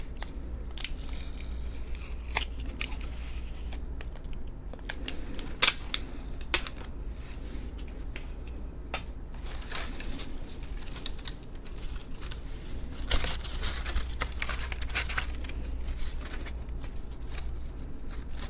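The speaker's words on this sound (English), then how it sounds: "Give me a next piece of tape so I can do the bottom." Adhesive tape is pulled, torn and pressed down in a quiet room as small, close crinkles and scattered sharp rips over a low hum.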